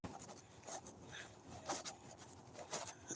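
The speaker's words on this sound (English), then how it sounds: "Oh, it's a little dog out here." A small dog whimpers and pants steadily nearby, with soft breathy panting and occasional higher whines running through the clip against a faint background hiss.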